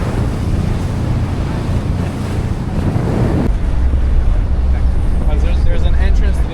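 Boat running back toward shore through ocean surf off Barbados, with steady broadband wave wash and strong wind buffeting the microphone throughout, plus voices faintly under the noise.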